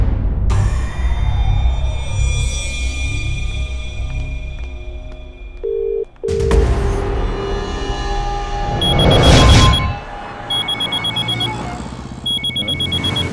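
An electronic phone ring repeats in short, evenly spaced bursts near the end, following a stretch of background noise and music-like tones.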